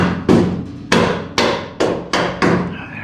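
Six sharp, loud hammer blows spaced about half a second apart, each ringing briefly, as a bolt is driven through the upper control arm of a Cobra Daytona's independent rear suspension.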